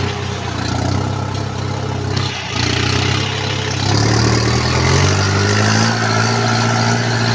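Tractor engine working while making ridges for cassava, a loud close steady drone whose pitch rises as it revs up partway through and stays higher, without speech.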